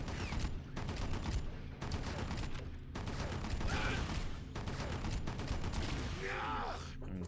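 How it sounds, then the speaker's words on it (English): Gunfire rattles in the video game Red Faction, dense rapid bursts and fusillades with brief gaps between them, loud and mechanical, with a whooshing effect near the end. "So you can just dump some ammo into him."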